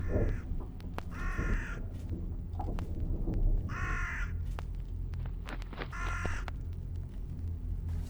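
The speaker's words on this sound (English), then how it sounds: "That bird's going crazy." A crow in the video game Jisatsu caws in three loud, harsh bursts at a steady rhythm over a low ambient rumble, with no talking.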